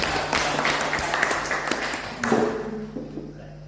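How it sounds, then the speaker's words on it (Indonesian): Audience applause for a teacher's presentation at a high school, a steady wash of clapping from a group that swells briefly mid-clip, then thins and fades out. "Kemudian berikan aplaus"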